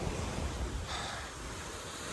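Surf rolls onto a small, quiet beach at Cua Dai, Vietnam, with wind buffeting the microphone, forming a dense, steady wash of noise and no voices.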